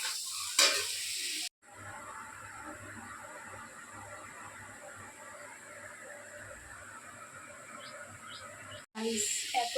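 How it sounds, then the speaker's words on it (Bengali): Pointed gourd (potol) frying in a pan for a potato curry, a steady soft sizzle running for several seconds between brief pauses at each end, close and moderately quiet with no talk over it. "দেখো আমি পটলগুলোকে ভাজছি"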